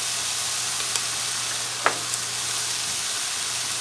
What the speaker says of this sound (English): I'm going to take, butter up my Texas toast